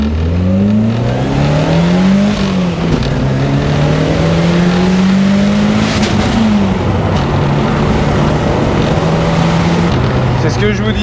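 Ford Escort RS Cosworth rally-bred tuned car accelerating hard, a loud, close engine roar climbing through the revs with gear changes, while people talk inside the car.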